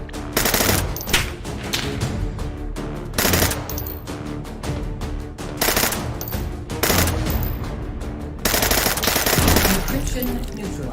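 Gunfire from the video game Guns 2: Reloaded comes in loud, rapid automatic bursts, separated by short gaps, with dense repeated shots throughout.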